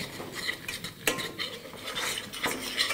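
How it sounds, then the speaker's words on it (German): A spoon or whisk stirs flour into melted butter for a roux in a pot on the stove, heard as close, continuous scraping and swishing strokes with a light sizzle underneath and no voices. "rühren das glatt, damit sich keine Klumpen bilden"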